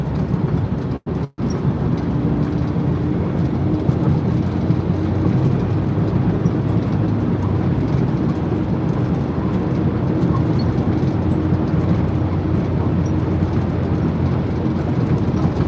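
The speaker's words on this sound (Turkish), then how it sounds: "otobüs yoldayız tünedeyiz" A bus drives through a tunnel, giving off a loud, steady rumbling road roar with a constant low engine hum that continues unbroken apart from two brief dropouts near the start.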